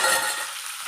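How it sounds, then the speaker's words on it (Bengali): Onion and green chili fry in a pan with a bright, dense sizzle that starts strong and fades slightly over a brief moment, close up and with no talk. "পেঁয়াজ কাঁচামরিচ ভাজিয়ে নিচ্ছি"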